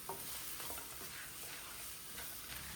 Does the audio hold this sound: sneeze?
no